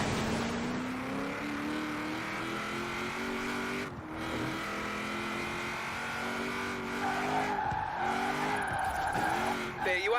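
A car drifting in Forza Horizon 4, its engine droning steadily while tires squeal in long wavering skids that rise and fall, loud and continuous.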